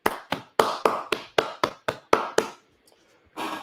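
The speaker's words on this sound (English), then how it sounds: "please give yourself a round of applause" Graduates at an international student graduation celebration clap for themselves, about ten sharp, evenly spaced hand claps close to the microphone, a short pause, then a final clap.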